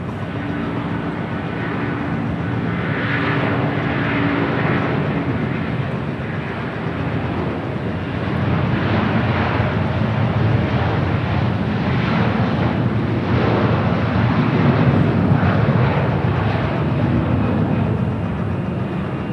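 Jet airliners landing and taxiing at Los Angeles International Airport make a loud, steady engine roar that holds for the whole stretch, with rumbling wind buffeting underneath and no voices.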